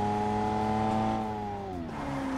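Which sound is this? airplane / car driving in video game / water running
car driving in video game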